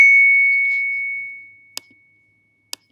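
A phone notification ding starts the clip as a loud, clear tone that rings out and slowly decays over about a second and a half. Two short, faint clicks follow, with no talking.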